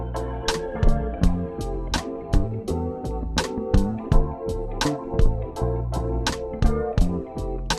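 A produced beat with a flammed snare plays a steady groove of crisp snare and hi-hat hits over low bass and melodic layers, with the doubled flam strikes repeating in an even pattern. Close, with no speech.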